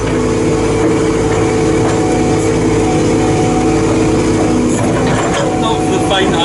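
A JCB excavator, a JCB 814 or JS220, works on site with a loud, steady diesel drone and low rumble throughout, engine revs shifting slightly while the machine is driven; speech may be faintly mixed in.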